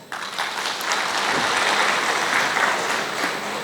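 Loud, sustained applause from an indoor audience of security officers at a training session, dense and steady clapping throughout without talk.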